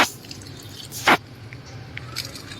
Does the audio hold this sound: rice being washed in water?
yes